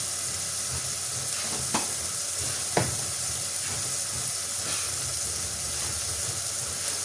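Turmeric, coriander powder and pepper powder sauté in hot oil in a pan, giving a steady, close sizzle and hiss throughout, with a couple of sharp clicks from the utensil and no voices.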